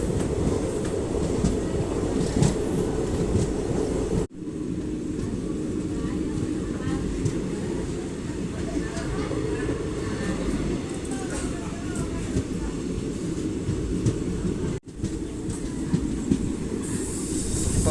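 A passenger train travels from Tiruvannamalai to Vellore with a steady, loud, close rumble of wheels and carriages. The sound continues throughout, with two brief dropouts.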